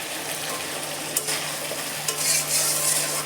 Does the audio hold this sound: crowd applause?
no